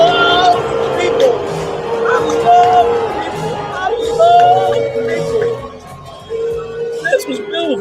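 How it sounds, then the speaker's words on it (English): A sporting-event crowd boos President Trump, a loud, sustained roar of many voices that swells and dips for about eight seconds with a murmur of chatter mixed in. "the crowd's displeasure is more pronounced"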